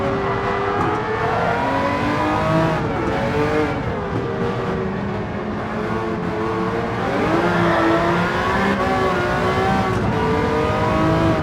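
A Nissan race car in Gran Turismo 7 accelerates hard, its engine rising and falling through gear changes in a loud, continuous revving whine with rising pitch sweeps and no talk.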